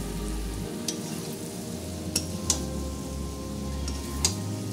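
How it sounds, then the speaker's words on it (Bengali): Small potatoes fry with spice masala in a pan, a close steady sizzle with a low hum beneath and a few sharp clicks of a spoon against the pan, no voice. "এবার আমি ভালো করে আলুর মধ্যে পুরো মশলাটা একদম কষিয়ে নেব।"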